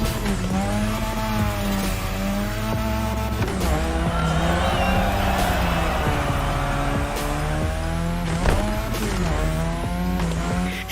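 Cars drifting around a drift track in the racing video game Crew Motorfest, with loud sustained engine drone that rises and falls through gear changes, and tires squealing in long skids throughout.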